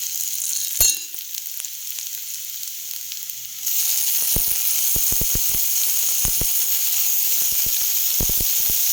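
Tomatoes dropped into onions frying in oil for gobi manchurian: a loud, steady sizzle and hiss builds suddenly partway through, punctuated by sharp clicks of a spoon against the pan.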